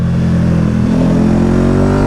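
Motorcycle engine at close range, running loud and steady with a rich low harmonic drone and a slight rise in pitch over about two seconds, as if revving lightly while riding back on tarmac; no talking.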